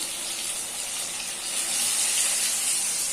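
Innamma Gurajala dough frying in hot oil gives a steady, loud bubbling sizzle that runs unbroken and swells slightly halfway through, with no talk over it.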